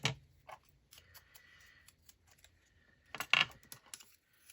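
Paper being trimmed with scissors for a small handmade junk journal: a few quiet, crisp snips and rustles in a near, otherwise silent space, with a louder cluster of cuts toward the end.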